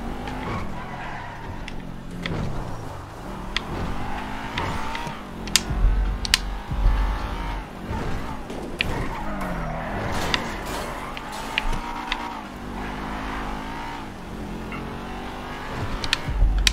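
Car engine running at full throttle in GTA V during a checkpoint chase, a sustained roar rising and falling in pitch with gear changes, under game music and a few sharp impacts.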